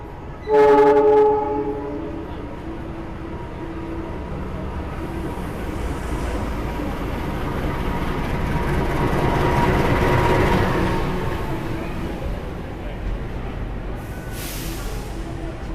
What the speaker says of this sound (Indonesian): kereta api Malabar yang saya naiki sudah memasuki jalur 5 ya teman-teman